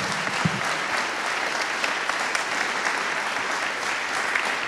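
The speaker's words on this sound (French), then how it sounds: "On va vous applaudir très fort parce que c'était riche." A conference audience applauds after a talk, a dense, sustained patter of many hands clapping at even loudness throughout, with no speech over it.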